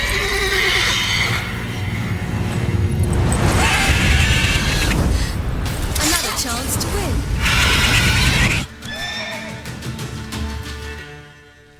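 A mare whinnies loudly in The Witcher 3: Wild Hunt amid hoof clatter and crowd commotion, with voices talking over it; a sudden cut drops to quieter ambience near the end.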